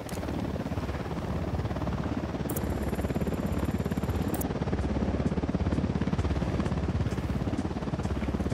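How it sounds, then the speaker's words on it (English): A helicopter in the Ghost Recon Wildlands video game thunders with a dense, rapid rotor chop, loud and steady throughout, with a short high-pitched tone layered in briefly partway through. "Helicopter incoming."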